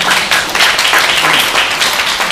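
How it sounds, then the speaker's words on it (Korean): An audience gives a short burst of warm applause for a choir at a live broadcast event, steady, dense clapping from many hands throughout. "합창단 시체 평화를 노래하는 하모니 여러분께 다시 한번 큰 박수 부탁드리겠습니다"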